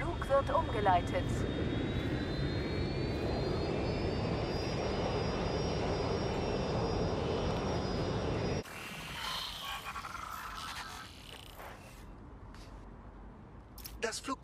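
Airplane engine drone from the video game Watch Dogs Legion, a steady loud hum with a faint rising whine, continuous for about eight seconds before dropping to a quieter, muffled background tone.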